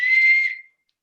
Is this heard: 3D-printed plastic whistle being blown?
yes